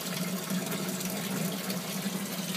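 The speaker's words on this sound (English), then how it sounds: "This one is siphoning nicely now." Water siphoning out of an aquaponics sump tank, a steady gurgling trickle and rush, faint and continuous.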